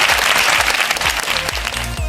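Brief burst of applause from an audience at a company associate meet, dense clapping over a thumping, pulsing low beat from music playing in the hall.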